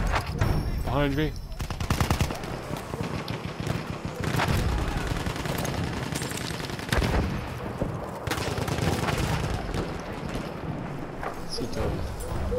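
Dense bursts of rapid machine-gun fire in a video game on the Suez map, with sharp cracks and booms, continuous and loud, set against a noisy battle backdrop with occasional voices.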